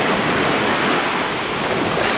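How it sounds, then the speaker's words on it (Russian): Sea waves wash onto Cleopatra Beach in Alanya, Turkey, as a constant loud roar of surf with some wind noise on the microphone. "Ну, блин, волны."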